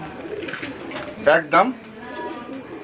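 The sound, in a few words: pigeons cooing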